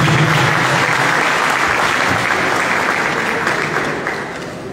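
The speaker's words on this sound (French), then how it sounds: "que je vous demande d'applaudir s'il vous plaît" An audience at a Gabonese diaspora gathering in Senegal breaks into loud, sustained applause welcoming a speaker, a thick continuous clatter of many hands that fades a little near the close.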